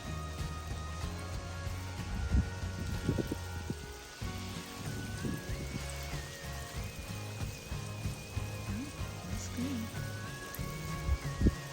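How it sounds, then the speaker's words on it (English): Steady rain patters on newly planted roses in a garden, a constant wash of drops with faint music or a tone drifting underneath. "So they sit in the rain a little bit"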